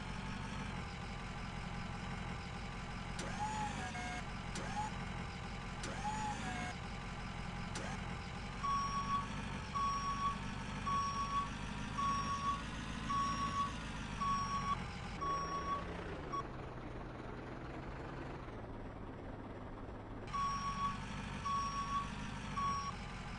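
A flatbed truck in Construction Simulator drives and idles with a steady engine drone, while a repeating reversing beep sounds loudly over it for most of the stretch.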